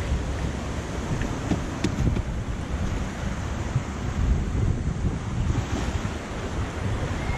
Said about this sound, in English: It's a proper whirlpool.